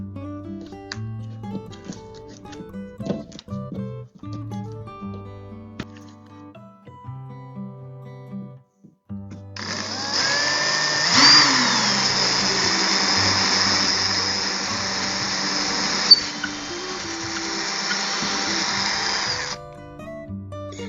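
A few light clicks and handling noises, then a power drill whirs steadily into a wall for about ten seconds before stopping, while installing floating shelves.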